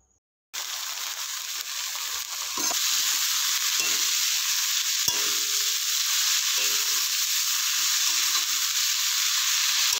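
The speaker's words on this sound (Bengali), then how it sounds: "এরপর শাকটাকে ভেজে নেব।" Leafy greens frying in a pan after potatoes, a steady close sizzle that starts abruptly and holds loud and even throughout, with faint stirring and no talk.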